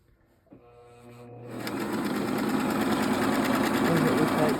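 A Singer sewing machine stitches a zigzag design, its rapid rhythmic clatter starting after a brief quiet moment and steadily building to a continuous close whir.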